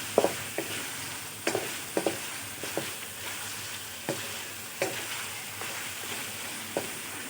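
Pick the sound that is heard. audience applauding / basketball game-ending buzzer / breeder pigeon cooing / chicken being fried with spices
chicken being fried with spices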